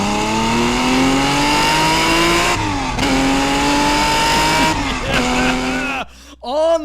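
A car driven hard on a public street, engine revving high through a corner with rising and falling pitch, brief shifts, then tire squeal and skidding at the end; loud and close, with voices talking briefly.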